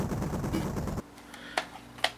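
Gunfire from the army tank battle video game RDF Global Conflict: a dense burst of rapid shots for about a second, then a quieter stretch with two sharp, isolated reports.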